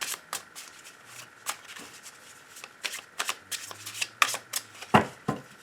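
A deck of cards is shuffled and cut for a tarot-style reading, giving repeated crisp riffling bursts and sharp snaps. They build to a louder flurry near the end, close and with no talk.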